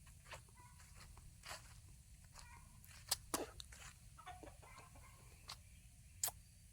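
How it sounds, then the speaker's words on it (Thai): Roosters and hens foraging in a durian orchard in Nakhon Si Thammarat, Thailand, with soft scattered clucks, pecking and a few sharp clicks over quiet outdoor ambience. "ไก่ผู้ไก่เมทุกคนนะกำลังหากิน"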